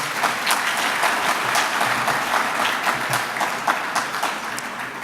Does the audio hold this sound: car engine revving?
no